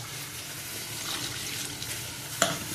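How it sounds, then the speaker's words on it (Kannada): Spices for a tempering sizzling in hot oil for a potato and drumstick gravy, a steady crackling fry with stirring and one sharp splash or clink near the end. "ಈಗ ಒಗ್ಗರಣೆಯನ್ನು ಕೊಡಬೇಕು"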